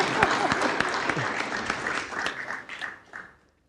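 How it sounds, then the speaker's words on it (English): An audience at a university innovation summit breaks into applause, a lively patter of many hands that gradually thins out and fades to quiet, with some voices mixed in. "This is the time to clap for me."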